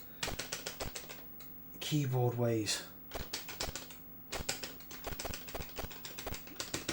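Computer keyboard keys pressed rapidly while playing the arcade game Bomb Jack, a dense run of close, crisp clicks with a brief burst of game music and a spoken word.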